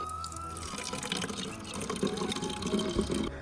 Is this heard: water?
yes